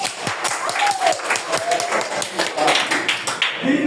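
A classroom of students claps for a classmate, a lively spatter of hands with some sharp individual claps, and voices are heard talking over the applause.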